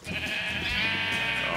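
A single sheep in the Minecraft Tekkit modpack lets out one loud, drawn-out bleat that wavers as it goes, close and clear with nothing else over it.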